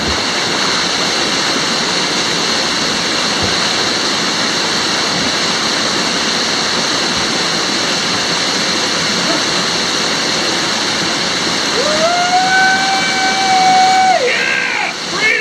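A loud, steady rush of falling water from a jungle waterfall in Malaysia fills the whole clip, with a voice briefly calling out near the end.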